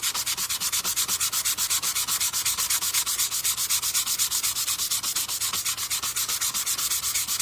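Steady rhythmic back-and-forth sanding of furniture to distress it, close and continuous with an even stroke pattern, no talking.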